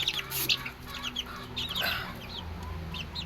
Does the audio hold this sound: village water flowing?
no